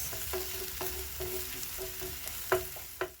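Garlic fries in a pan for fish stew while being stirred and turned, giving a steady hiss of sizzling oil with a few spoon knocks and scrapes, the last two louder, close and with no voices.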